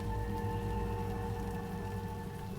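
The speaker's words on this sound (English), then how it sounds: "today it's cloudy, raining, and the wind is blowing" Steady rain falling outdoors on a cloudy, windy day, a continuous even wash of drops with a low rumbling undertone, constant and moderately quiet throughout.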